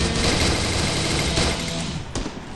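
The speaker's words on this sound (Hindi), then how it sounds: "इतनी जल्दी रिलोडिंग भी और फायरिंग भी MP40 की होती है" MP40 submachine gun fire in the Free Fire video game, a dense rapid burst of shots lasting a couple of seconds, loud and close, ending with a sharp final crack.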